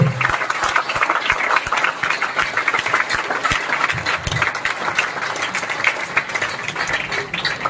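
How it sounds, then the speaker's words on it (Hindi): A seminar audience in Faridabad applauds, a dense and sustained crowd clapping that keeps an even, loud level throughout with individual claps audible at the front. "आज मन से ताली बजा दो"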